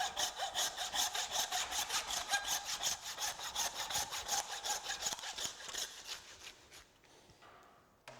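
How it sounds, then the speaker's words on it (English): A handsaw cuts through a beef H-bone in fast, even rasping back-and-forth strokes, close and steady, slowing and fading near the end. "Then we get the handsaw and saw through the H-bone."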